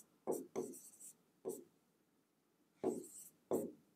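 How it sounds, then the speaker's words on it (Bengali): Pen or marker writing by hand during a primary school math lesson, short scratchy strokes in separate bursts with pauses between, close and fairly quiet, no talk. "এখন আমরা লিখব"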